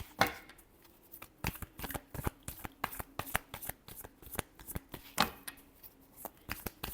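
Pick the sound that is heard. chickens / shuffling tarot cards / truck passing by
shuffling tarot cards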